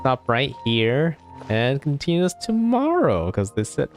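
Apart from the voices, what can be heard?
None of the usual background noises is heard.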